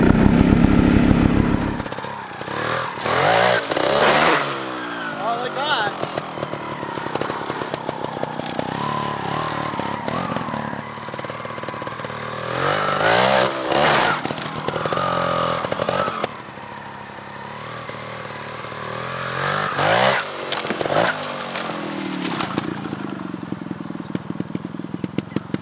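A Gas Gas TXT trials motorcycle engine revs and idles up close in repeated bursts while the rider practices hops using clutch and brake, with the engine note rising and falling throughout.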